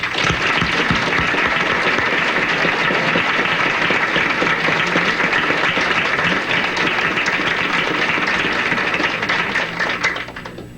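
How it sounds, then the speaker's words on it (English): Loud, dense crowd applause with scattered cheering greets Prime Minister Pierre Elliott Trudeau at a 1980 campaign rally in Cranbrook, British Columbia, sustained throughout and tapering off at the very end. "Let's give him a big cheer."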